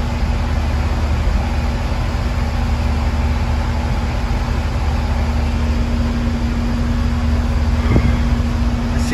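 A 1977 Ford F-250 pickup idles while warming up, a steady low engine drone with a constant hum, close and unchanging, no talking.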